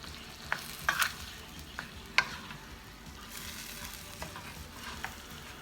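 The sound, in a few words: ground beef frying and being stirred in a pan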